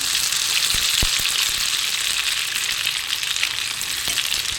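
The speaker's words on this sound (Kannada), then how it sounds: "ಮೀಡಿಯಮ್ ಉರಿಯಲ್ಲಿ ಇಟ್ಕೊಂಡು ಫ್ರೈ ಮಾಡ್ಕೊಳ್ಬೇಕು" Jackfruit kebabs fry in oil over a medium flame, giving a loud, dense, steady sizzle close by, broken by a few sharp clicks as pieces shift in the pan.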